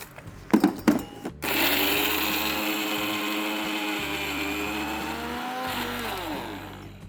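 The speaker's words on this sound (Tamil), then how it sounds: "இப்போ இந்த எல்லா இன்க்ரீடியண்ட்டும் ஒரு பவுடராக அரைக்க போகிறோம்." A kitchen mixer grinder whirs steadily as it pounds spices into powder for garlic thokku rice, a loud continuous motor drone with a few brief stops and restarts after short clattering knocks at the start.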